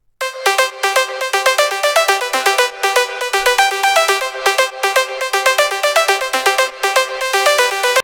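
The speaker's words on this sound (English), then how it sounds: "For the lead, I started with this future rave-ish sound that I made." A bright, buzzy synth lead plays a fast, bouncing melodic pattern of short repeated notes, loud and steady with no low end beneath it.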